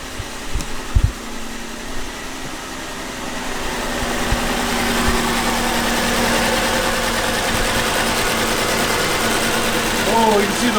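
A car engine idles roughly, shaking with a suspected misfire, giving off a steady low drone with an uneven throb beneath it; a few brief knocks and a voice come near the start.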